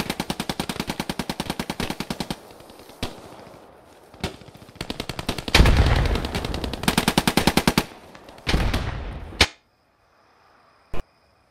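Machine gun fire in the video game Post Scriptum, long rapid bursts of automatic shots, loud and close, broken by single heavy reports, then a sudden cutoff into near silence with one last sharp shot.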